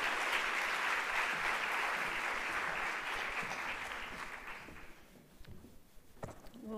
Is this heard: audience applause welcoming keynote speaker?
yes